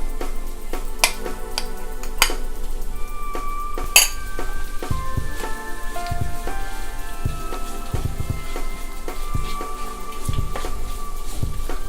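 Spice and vinegar paste for a sweet raisin pickle hits a hot pan and sizzles with a steady crackling hiss, punctuated by sharp spoon clinks against the metal, close and fairly loud.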